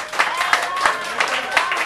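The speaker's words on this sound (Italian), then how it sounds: "L'applauso è conseguenziale" Audience applause at a Halloween costume contest, a dense burst of clapping from a crowd that runs unbroken through the whole moment, close and fairly loud.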